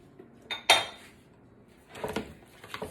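A spoon clinks sharply against a bowl while octopus salad with seasoning is stirred, a loud knock followed by softer scraping and tapping of utensil on dish, with no voices.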